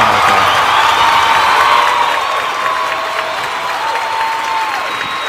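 Applause from a crowd rolls on steadily, with dense clapping and some cheering and whoops mixed in, holding fairly even in level throughout.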